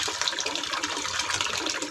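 Water pumped by hand from a rural provincial well gushes and splashes steadily, a continuous close hissing flow with no pauses.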